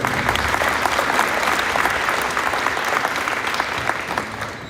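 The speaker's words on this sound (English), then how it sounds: "please join me in giving a round of applause for our class of 2021 signees" Sustained audience applause for high school class of 2021 athletes at a national signing day ceremony, a dense steady crowd clapping that holds for several seconds before starting to taper.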